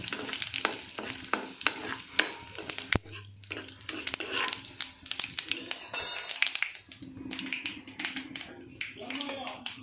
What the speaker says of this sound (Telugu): పోపు చిటపట్లాడుతుంది కదా